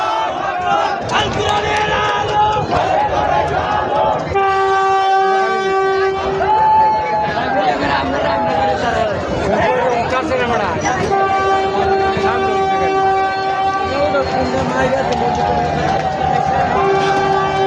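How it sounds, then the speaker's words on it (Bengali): A crowded train pulls out of a station in Bangladesh heading for Dhaka after the Bishwa Ijtema gathering, its loud horn sounding in long blasts over continuous rumble and a noisy crowd. "প্রথম ট্রেন ছেড়ে গেল ঢাকার উদ্দেশ্যে বিশ্ব ইজতেমার শেষে"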